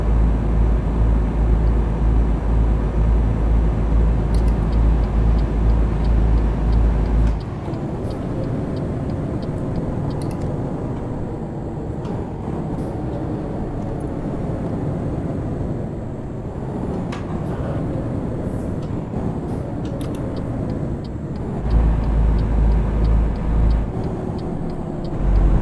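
Truck engine in Euro Truck Simulator 2, a continuous low droning hum with steady road noise, heaviest at the start and end, running on its own without talk.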